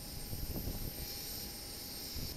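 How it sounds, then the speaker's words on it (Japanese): Airliner engines running at Itami Airport (Osaka International) before pushback, a steady broadband roar with a high whine on top, continuous and moderately loud, no voices. "各種エンジンなどが起動し終わった状態、起動または起動準備の状態になっています。"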